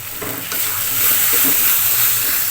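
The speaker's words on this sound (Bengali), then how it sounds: "এবার ঘন্টটাকে অনবরত নেড়ে নেড়ে আরেকটু শুকিয়ে নিতে হবে।" Banana flower ghonto is stirred and fried in a pan, giving a loud, continuous sizzle close up, with soft scraping strokes from the spoon.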